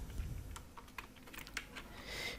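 Computer keyboard typing in short irregular bursts of keystrokes, as when entering a website address such as facebook.com into a TP-Link router's settings page, fairly quiet and close with no voices.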